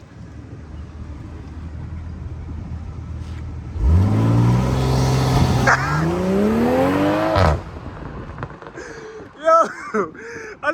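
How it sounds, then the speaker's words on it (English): A 2020 BMW M340i xDrive launches hard, its engine rising sharply in a loud revving sweep through the gears before backing off, with voices chatting near the end. "he about to launch his car"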